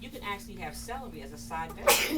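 A single sudden sneeze bursts out loud and close right after someone speaking about cooking vegetables finishes a sentence, in an indoor nutrition class.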